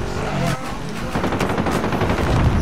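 Rapid automatic gunfire crackles through a Warzone battle royale match, dense bursts of shots near and loud, layered over game effects and movement noise with no pauses.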